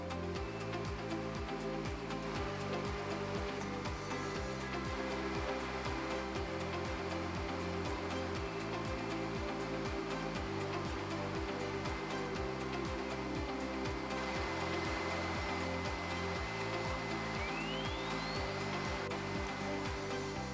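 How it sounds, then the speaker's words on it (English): A CNC router (AXYZ Pacer) runs a PCD polishing tool along the edges of acrylic sign letters, giving a steady loud machine whine and hum with a constant broadband hiss throughout, no voices. "A PCD acrylic polishing tool is now used to put a high quality finish on the"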